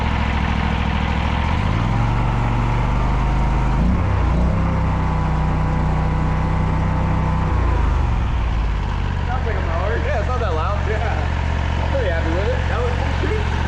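A Harbor Freight Predator 670 engine fitted to a Toro Grandmaster 345 mower runs at full throttle with a continuous heavy rumble and a brief pitch rise midway, steady and close, while people talk over it.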